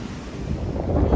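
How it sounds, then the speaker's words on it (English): Steady wind gusts buffet the microphone on a mountain trail along the Appalachian Trail, a continuous low roaring rush that swells slightly toward the end, with no voices. "It is still windy out."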